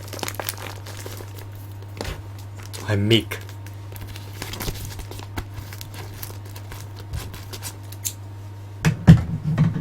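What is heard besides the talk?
scissors cutting through an envelope package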